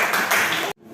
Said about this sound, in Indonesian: Tepuk tangan untuk Putra.